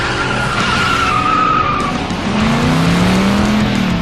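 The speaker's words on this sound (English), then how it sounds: "It's a 2016 Mustang GT, and it is a ripper on the road." A 2016 Ford Mustang GT with its engine roaring loud and close, tires squealing in a long skid whose pitch slides, then the engine note climbing again as the car powers on.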